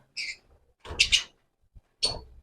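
Bright, high chirps come in three short bursts separated by quiet gaps, close and clear, with no voices.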